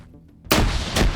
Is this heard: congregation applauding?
no